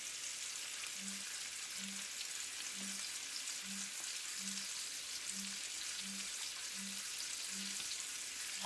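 Chicken breasts fry in a skillet with a steady close crackling sizzle, while a faint low tone pulses regularly underneath about once a second.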